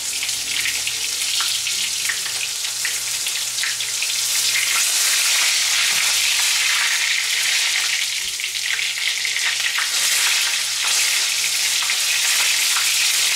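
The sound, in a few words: meat frying and sizzling in pan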